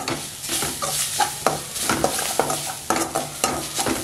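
Coconut roasts lightly in oil in a pan, close stirring scrapes and soft clinks repeating every half second or so over a gentle sizzle, with no talk.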